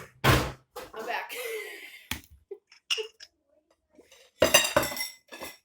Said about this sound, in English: I try to organize my pots drawer, but it never seems to stay organized. And then pots just fall out.